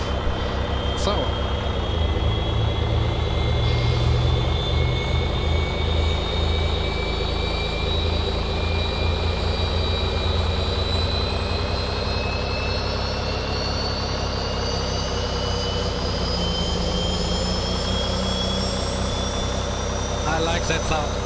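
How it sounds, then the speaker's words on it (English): A Boeing 737-800 jet engine spools up during a simulated engine-two start in a flight simulator. A steady loud roar carries slowly rising turbine whines, with someone talking over it. "And we do now the engine start. Engine number 2."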